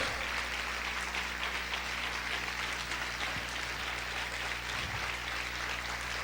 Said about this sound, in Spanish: Siga aplaudiendo fuerte al Rey.